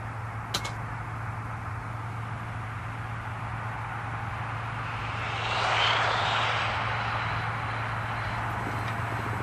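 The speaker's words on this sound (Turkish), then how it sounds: "Uçak. Uçak." An airplane flying overhead in Istanbul, a steady broadband engine roar that swells briefly near the middle as it passes, heard over a constant low hum with no talk.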